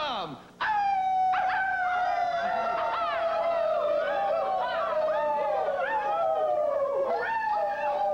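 Several men howl together like timberwolves, long wavering cries that swoop and slide in pitch, overlapping into a loud, sustained chorus of voices imitating wolves.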